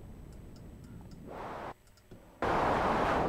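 Noise oscillator on a KV331 SynthMaster software synthesizer run through a filter: a steady hiss whose brightness shifts as the filter moves, briefly dipping quieter before opening up into full, bright noise.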